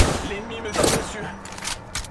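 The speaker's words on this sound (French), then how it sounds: "L'ennemi me tire dessus." Gunfire aimed at the player in Apex Legends, a rapid burst of shots cracking over a noisy battle backdrop with several sharp reports, loud and close.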